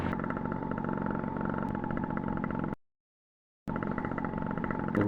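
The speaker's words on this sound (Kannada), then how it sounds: "ಸಿಂಗಲ್ ಸಿಲಿಂಡರ್ ಇಂಜಿನ್ ಟೂ ಸ್ಟ್ರೋಕಿಂದು ಇದು" A Yamaha RX135 single-cylinder two-stroke motorcycle engine idles with a steady, rattly putter, cutting out briefly to silence before resuming.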